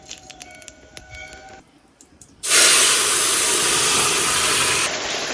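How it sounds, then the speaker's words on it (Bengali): Mustard oil flares into a loud, steady hissing sizzle the instant radhuni and cumin seeds are dropped in for tempering, following a quieter stretch of faint clinks, and the hiss stays strong and unbroken to the end. "তরকারিটা এখন ফোড়নে দেবো সর্ষের তেল, দেবো কিছু রাঁধুনি আর দেবো কিছু জিরে,"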